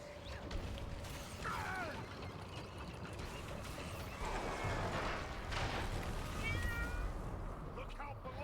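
Cat meowing during a video game session, several rising and falling meows spread across the stretch over a busy background of game noise and mechanical sounds.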